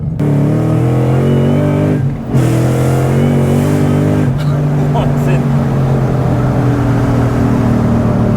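Ford Mustang Shelby GT500 supercharged engine, 760 hp, pulling hard under acceleration from inside the car, a loud steady drone with a faint high whine on top and a brief dip near the two-second mark.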